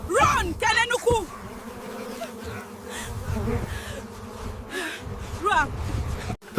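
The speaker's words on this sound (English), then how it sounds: "the swarm of bees descended upon them, furious and unstoppable" A swarm of bees buzzing in a forest, as a dramatized story sound effect: a continuous, droning hum fills the whole stretch, loud and close, with a few sharp shrill cries breaking over it.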